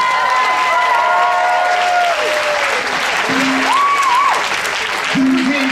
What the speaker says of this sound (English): So give him some applause for the quality.